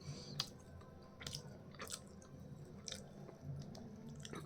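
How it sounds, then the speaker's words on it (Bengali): Close, wet chewing and biting while eating luchi with vegetable curry, soft squishy mouth sounds repeating in an irregular rhythm over a low, quiet background with no talk. "তো লুচি তরকারি খাচ্ছি"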